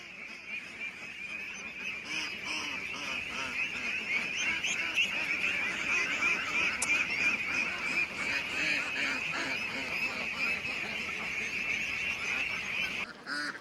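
A flock of Belgian ducks rests on a village duck farm on a cold evening, producing a dense, continuous quacking chorus that stays steady and close throughout, with no talking.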